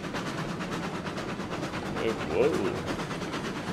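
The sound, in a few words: Cooke locomotive train running in video game RailRoads Online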